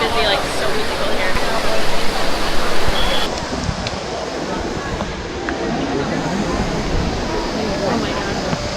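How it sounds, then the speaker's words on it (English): Water splashes and rushes continuously at the Trevi Fountain in Rome, a dense broadband wash with the murmur of a large busy crowd mixed in, loud and near throughout. "We're at the Trevi Fountain and it's crazy busy, like so many people here."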